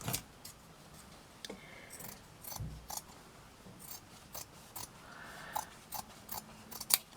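Scissors trimming away material on a handmade Christmas tree bauble, a series of crisp close snips at uneven intervals over soft handling noise in a quiet room.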